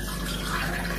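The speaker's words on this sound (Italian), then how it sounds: "successivamente riempiamo l'acqua all'interno" Water running into the base of a Moka pot: a continuous close hiss and gush of filling liquid, steady and fairly loud.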